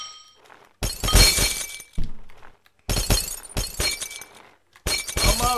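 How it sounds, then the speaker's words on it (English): Glass shatters in Happy Wheels, several loud crashing breaks in a row with short gaps between bursts, close and alone without talk. "That was the worst glass break."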